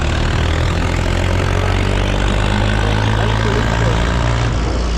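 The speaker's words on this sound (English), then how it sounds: "See this tractor right here." A tractor engine idles steadily in a border town, a loud, constant low rumble that fills the whole stretch without a break.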